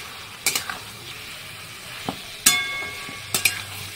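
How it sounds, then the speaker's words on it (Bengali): Boiled taro and potato tip into hot, sizzling masala in a pan, with a few sharp clattering hits at the start and partway through, a steady fry hiss running underneath, and no talking. "এখানে আছে মানকচু আর আলু, দুটোই একসঙ্গে সিদ্ধ করে রেখেছিলাম। এখন ছেড়ে দেবো মশলার ভিতরে।"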